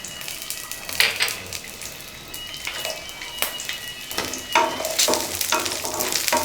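Small shallots being fried in a tablespoon of hot oil while making peanut chutney. A soft crackle and sizzle comes with occasional stirring scrapes and clinks from the pan, close and moderately loud, with no talking.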